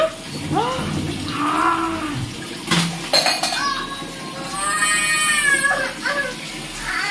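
Water poured over a baby during a bath at home in summer heat, splashing and clattering against a metal vessel in bursts, close by, with a child's vocal sounds and adult talk mixed in.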